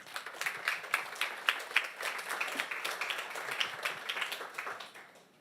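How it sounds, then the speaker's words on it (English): An audience claps together, a dense patter of many hands at a moderate distance that holds for several seconds and then fades away. "I like how you guys clap"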